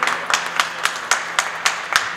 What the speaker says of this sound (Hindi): आप लोग भी जोरदार तालियों से स्वागत करेंगे